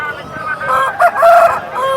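Rooster crowing at a Nallapadu poultry market, a clear drawn-out cock-a-doodle-doo near and loud, with faint market chatter around it.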